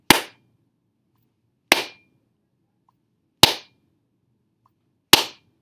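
Four sharp, isolated hand claps spaced evenly about 1.7 seconds apart, in time with a swinging pendulum, each crisp and close with silence between.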